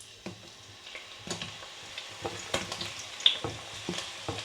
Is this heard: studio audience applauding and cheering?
no